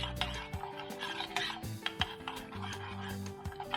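Granular scraping and metallic clinks as sugar pours slowly into a pan for caramel, with stirring taps against the metal, close and moderately quiet.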